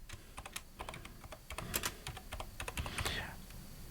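Rapid keystrokes on a computer keyboard, typing in irregular bursts of close, crisp clicks with brief pauses, over faint background noise.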